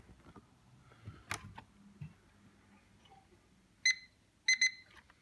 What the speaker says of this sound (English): So it beeped twice.